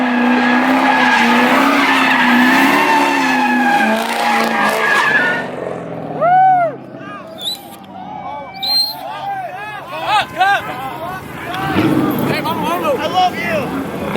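A Tesla Model 3 spins donuts at a Maryland car meet, its tires squealing loudly in long rising and falling screeches over a noisy crowd, with chatter and shouts throughout.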